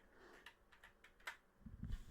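Computer keyboard typing, a handful of soft, irregular key clicks close by and very quiet, ending in a brief low thump.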